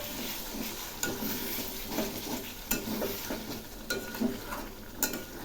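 Potol stirred with whisked yogurt, green chilli and spices in a pan over a soft sizzle, a spoon clinking and scraping against the metal at irregular intervals, close and quiet.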